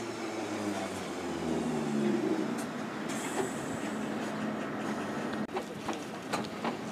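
London Underground Bakerloo Line train pulling away from South Kenton station, a steady rumbling roar of wheels and motors with squeals and rattles, fairly close, no talking.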